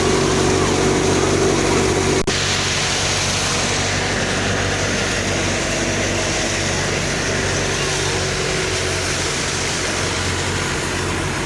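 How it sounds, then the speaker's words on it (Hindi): A New Holland tractor with large wheels powers a thresher processing mung beans, producing a loud, steady mechanical roar and rumble throughout, with a brief knock near the start. "आगे ट्रैक्टर है। ये बड़े बड़े व्हील लगे हुए हैं और थ्रेशर चल रही है"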